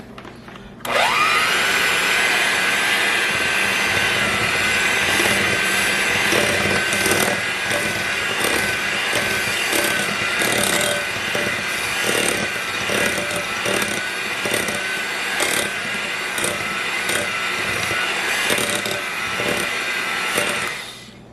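An electric mixer whirs steadily at high speed, beating room-temperature butter with sugar for anise chocolate chip cookie dough, a loud continuous motor drone with rattling texture running the whole clip.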